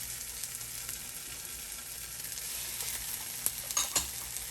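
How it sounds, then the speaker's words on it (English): Garlic and onions sauté in a pan for pabellón criollo, a soft, steady sizzle close by with a few light stirring clicks and scrapes toward the end; no talk. "So I'm going to add our garlic to our onions since they're already starting to look somewhat translucent."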